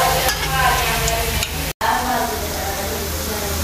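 Browned onions frying in a pan with garlic and ginger just added, a continuous loud sizzle with stirring scrapes and a brief cut partway through.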